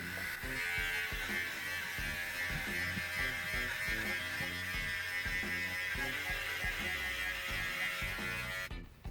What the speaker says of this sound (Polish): Trzeba przyznać, że jest bardzo bezpieczny ten trymer